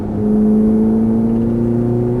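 A Ferrari F430 accelerating on a race track, its engine holding a steady, rising tone that stays close and fairly loud across the whole short stretch.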